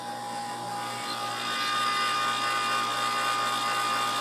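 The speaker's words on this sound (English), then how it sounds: "it'll start removing, cutting the mouth back. It'll cut it back to a length that is within spec" A spring-loaded case trimmer cuts back the mouth of a GP11 brass rifle cartridge case, giving a steady whirring, grinding hum with a high whine, continuous and close for several seconds with no talk.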